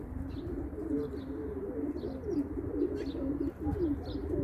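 Pigeons coo in soft, continuous, overlapping low calls close by, with a few faint chirps above and no one speaking.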